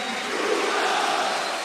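A PSG stadium crowd in a match against Bordeaux gives a steady, moderate wash of applause and murmuring as a player is substituted off, sustained and distant-sounding with no standout peaks.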